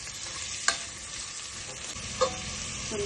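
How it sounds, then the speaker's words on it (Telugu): Chicken being stirred with coriander powder and masalas for pulao, a steady soft sizzle under two distinct scraping clinks of a spoon against the pan. "ధనియాల పొడి, మసాలాలంతా బాగా పట్టేలాగా మంచిగా కలుపుకోవాలి."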